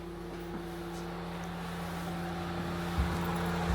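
A parked truck's engine idles in snowy weather as a steady low hum with a faint drone, close and even, with a slight bump toward the end and no voices.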